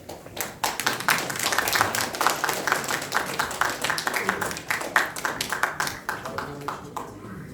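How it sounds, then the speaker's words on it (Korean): Clapping from a crowd at an outdoor Korean political rally celebrating President Park Chung-hee's birthday as a speaker takes the stage, loud sharp claps that fall into a rhythmic group beat before trailing off. "여러분 힘찬 박수 부탁드릴까요?"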